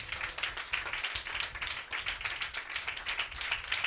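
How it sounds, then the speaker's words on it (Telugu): A church congregation clapping hands loudly and steadily together, a dense continuous patter of many hands filling the room without any voices. "చప్పట్లు కొట్టండి గట్టిగా"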